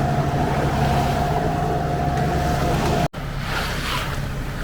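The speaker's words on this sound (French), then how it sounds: "la circulation des bateaux, hein, quelle que soit la taille, le type des bateaux, ça n'arrête pas" A steady engine drone with a low hum over wind and water noise, like a boat motoring past nearby near Leucate, briefly cut by a dropout.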